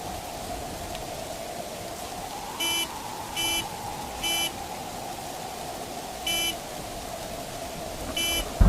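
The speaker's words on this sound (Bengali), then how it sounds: "মনে হলো গাড়ির হর্ন।" In a cartoon storm scene, a car horn honks in five short, evenly loud blasts, with a longer gap before the last two, over a constant rush of heavy rain and wind.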